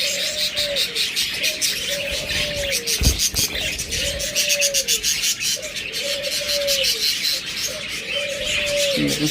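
Domestic pigeons coo steadily in a loft, a regular series of about five soft, close coos spaced a couple of seconds apart, with faint chirps and insect-like buzzing behind them.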